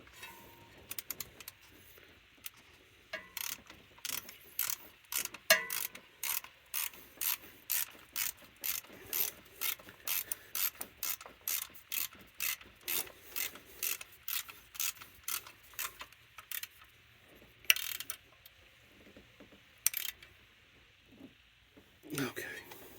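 Ratchet wrench tightening a bolt on a 1994 Dodge Ram 3500 V10 engine during a smog pump delete, a steady run of close, crisp clicking strokes repeated throughout with brief pauses.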